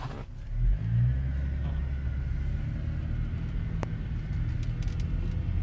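A 2003 Volvo XC90 T6 SUV rolls forward after being shifted into drive, its engine a steady low rumble with a brief rise early on, close by and without talk.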